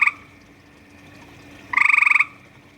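A frog croaks extremely loudly from about a foot away: a short call at the start, then a rapid train of roughly a dozen pulsed, ringing croaks near the end, with quiet in between.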